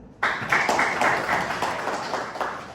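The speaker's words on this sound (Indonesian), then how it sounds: "Kita tepuk tangan dulu." A small group in a classroom bursts into applause, a sudden onset of brisk, close clapping that keeps a steady pace for a couple of seconds.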